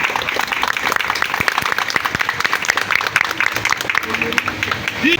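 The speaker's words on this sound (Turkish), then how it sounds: "Ben öncelikle huzurlarınızda onlara teşekkür ediyorum ve bir alkış istiyorum arkadaşlar." A crowd at a political speech applauds in honour of teachers, many hands clapping in a sustained, fairly loud wash with distinct sharp claps, and a voice faintly heard toward the end.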